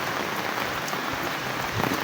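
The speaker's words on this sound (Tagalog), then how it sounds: "Ang ganda magka-ulan." Rain falls steadily, a dense even hiss of drops pattering on surfaces, close and constant with no voices.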